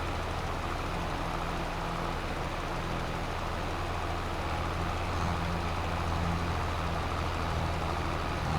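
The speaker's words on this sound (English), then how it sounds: "Wow, this is a heavy tractor." A heavy tractor engine in the Farming Simulator 22 game drones steadily at a constant low rumble, loud and unbroken throughout, with no speech.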